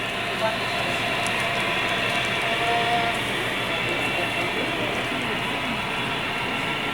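A continuous rolling rumble of an HO-scale model train running along its track on a club layout, steady and fairly close, with a faint high whine on top.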